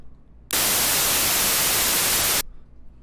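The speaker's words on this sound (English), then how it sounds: "Great, so we hear white noise." White noise from a noise generator in Pd at amplitude 0.5 switches on abruptly as a loud, flat broadband hiss, holds steady for about two seconds, then cuts off sharply into quiet.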